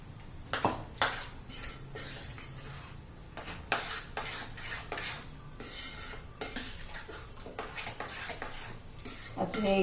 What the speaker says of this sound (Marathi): आता ही सर्व आपण व्यवस्थित मिक्स करून घेऊया